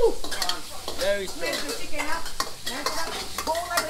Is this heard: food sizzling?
yes